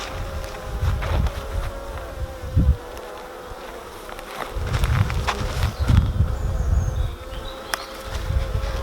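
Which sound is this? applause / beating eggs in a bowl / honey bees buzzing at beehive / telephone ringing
honey bees buzzing at beehive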